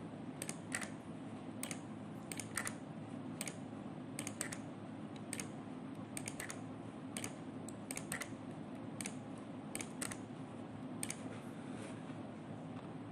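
Values are keyed in on a computer keyboard, producing faint, steady key clicks in uneven bursts over a quiet background hum.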